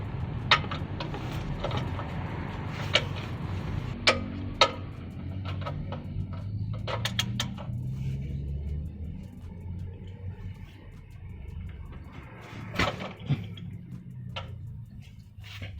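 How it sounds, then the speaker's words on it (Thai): A wrench works at the 17 mm oil drain plug under a Mitsubishi Mirage, giving sparse metallic clicks and ticks over a quiet room hum, with no voices. "ขันปลั๊กด้านล่างออกนะครับ"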